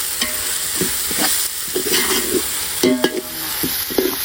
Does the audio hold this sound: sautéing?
yes